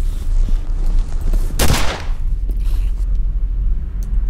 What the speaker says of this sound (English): There's a lot of gunfire going on up here now.